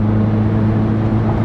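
Mitsubishi Pajero Sport Dakar engine running at steady throttle, a loud, close, even hum with strong low tones and no pauses.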